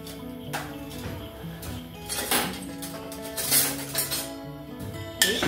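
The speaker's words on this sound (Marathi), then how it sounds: "आता यात मी एक छोटा चमचा मोहरी टाकते आणि एक छोटा चमचा जिरे टाकून घेते।" A spoon scrapes and clinks against a pan while mustard seeds and cumin are stirred in a little oil for an okra dish. The metallic taps come irregularly over a steady, busy kitchen background.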